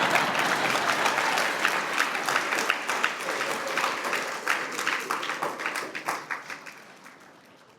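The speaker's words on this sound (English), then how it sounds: "You can clap for her." An audience applauds at a wrestling hall of fame induction ceremony, a loud burst of clapping that thins into scattered individual claps as it fades out.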